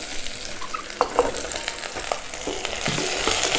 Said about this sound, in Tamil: இதோட கத்திரிக்காயும் சேர்த்து வதக்கலாம்.